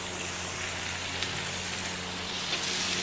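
Onions sizzling steadily in hot oil for a Malaysian-style chicken biryani, a broad, even crackle that holds constant close up with a couple of brief sharper pops and no talking.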